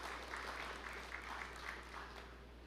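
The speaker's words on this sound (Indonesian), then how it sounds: "Berikan tepuk tangan yang meriah buat Tuhan." Church congregation applauding during a sermon, a steady, fairly faint wash of many hands clapping with a slow pulsing swell, sustained throughout without speech.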